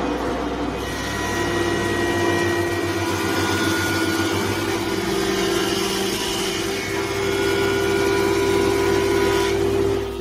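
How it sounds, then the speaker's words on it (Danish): A jointer and thickness planer machine old timber planks, producing a loud, steady motor drone with a constant hum that runs unbroken throughout, with no voices. "vil du få brug for en afretter og tykkelseshøvel, populært kaldet en høvl, og en tykkelseshøvl."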